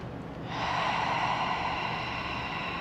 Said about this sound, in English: Find your breath, nice deep inhales and exhales.